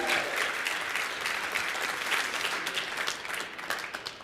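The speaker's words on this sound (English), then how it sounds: "give yourselves a round of applause for that" Audience applause at a hospitality industry conference, a steady dense clatter of many hands clapping together, fairly loud and sustained throughout with no talk over it.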